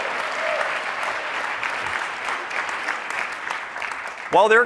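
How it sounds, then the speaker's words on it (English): Steady applause from a conference keynote audience fills the clip, with a voice starting to speak just at the end. "while they're coming out, you can clap for them."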